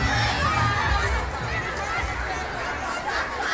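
A large outdoor crowd gathered in Alexandreia, Greece, for a Christmas tree lighting with fireworks, filling the air with a dense, continuous hubbub of chatter and children's shouts, close and steady throughout.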